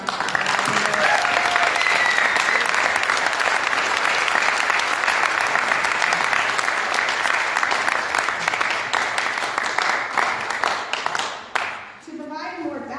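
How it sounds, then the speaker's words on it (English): Loud, dense audience applause at a community theatre awards night, sustained steadily for about eleven seconds before tapering off, with faint voices emerging as it fades. "Let's give her a huge round of applause."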